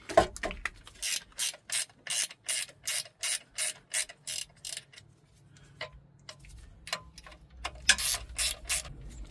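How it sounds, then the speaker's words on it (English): A ratcheting gear wrench turns a bolt while fitting a fresh water cooling kit on a 1968 Bertram boat, giving a rapid, even series of loud clicks, then a pause and a few scattered, sharper ratchet bursts close by. "Another thing I like about this gear wrench set is they come with these ratcheting wrenches."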